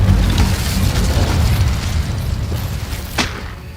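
The Incendio fire spell goes off in Hogwarts Legacy as a loud, rumbling whoosh and boom that fills the whole moment and then tails off slowly. A brief crackle cuts through near the end.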